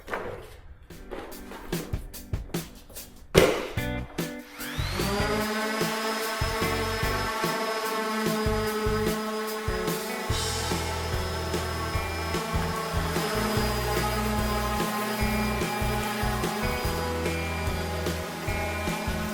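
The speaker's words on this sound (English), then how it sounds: "I got it all sanded down" A power sander with a sanding disc whirs steadily and loudly on wood for most of the clip after a few seconds of clattering and handling noise at the start.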